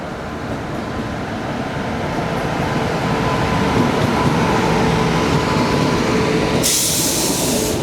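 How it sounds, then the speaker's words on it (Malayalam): Matsyagandha Express, an LHB-coach train hauled by diesel locomotive 30390, rolls past with a steady, loud rumble and rattle of wagons on the rails, and a sharp hiss bursts in near the end. "ഇത് അങ്ങോന്ന് മത്സ്യഗന്ധ എക്സ്പ്രസ് കയറി വരുന്ന കാണുന്നില്ലേ?"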